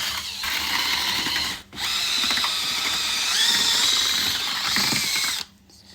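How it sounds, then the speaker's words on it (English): A power drill fitted with a paint stirring stick mixes a sugar brick batch for bees, whirring steadily with a churning mechanical tone, pausing briefly before running again, then cutting off near the end. "you take your drill with a paint stirring stick on it"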